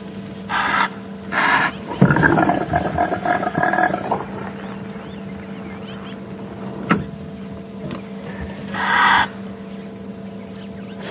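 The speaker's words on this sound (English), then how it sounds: "the initial noise that he makes is a nasal snort, and that progresses into the strange gurgling roar" An impala ram at Djuma Game Reserve, heard on a morning safari drive, gives loud nasal snorts followed by a long, strange gurgling roar, with further snorts later over a steady engine hum.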